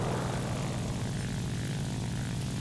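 An XP-55 propeller fighter in War Thunder climbs with a loud, continuous engine roar and airscrew drone, steady and close throughout, with no talk.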